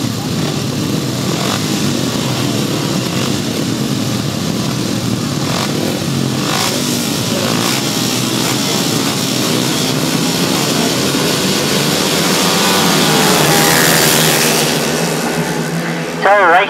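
Grasstrack motorcycles roar into the first turn of a British Masters race, a loud, continuous pack of engines with rising and falling revving, a commentator talking over it and the pitch sweeping as bikes pass near the end.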